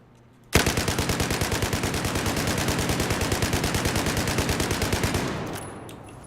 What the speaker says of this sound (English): And a quick burst fire.